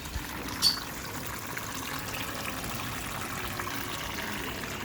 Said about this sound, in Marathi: त्याला वॉटरफॉल माझा तयार झालेला आहे